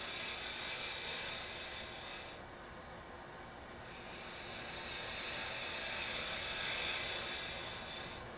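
A lathe tool takes a shearing scraping cut across the edge of end-grain wood during hollowing, a steady rough rasping hiss that runs continuously, swelling slightly louder toward the end, close and without speech.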